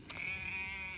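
Goat bleating in a garden paddock, a single drawn-out nasal bleat close by and moderately loud, alone without talk.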